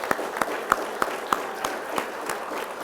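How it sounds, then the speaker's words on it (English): Applause at a law enforcement training graduation ceremony: a modest crowd clapping in a roughly steady rhythm, with individual claps distinct, mid-distance in a hall. "let's give everybody that's around these students in front of us a round of applause"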